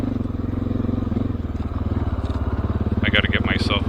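Honda XR650L dual sport motorcycle ridden slowly along dirt trails, its engine thumping steadily and close up, with some clattering near the end.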